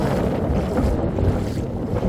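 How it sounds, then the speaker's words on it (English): Steady wind buffeting the microphone beside a Scottish loch, a continuous loud rumbling roar with no voices. "It's a bit windy"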